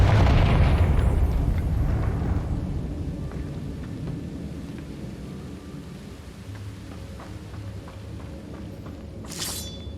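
A Confringo blasting spell explodes in Hogwarts Legacy with a heavy, booming burst that rolls away into a long, fading rumble with scattered debris crackle. It stays loud at first, then thins out, and a faint high chime sounds near the end.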